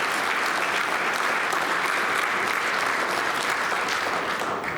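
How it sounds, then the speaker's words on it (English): Audience at a Republican women's Senate candidate forum in Box Elder County, Utah, giving the candidates a round of applause, dense, even clapping held steady throughout. "If we can give them a round of applause."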